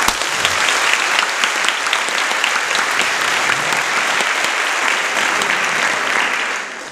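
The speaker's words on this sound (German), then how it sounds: "dass ihr klatscht, wenn ihr extra für den Kirchentag angereist seid" Sustained audience applause at a live Kirchentag 2023 concert, a dense, loud wash of many hands clapping that holds steady and fades slightly at the end.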